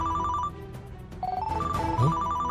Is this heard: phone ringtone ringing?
yes